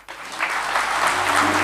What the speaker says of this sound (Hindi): सब खड़े होकर तालियां बजाएं सब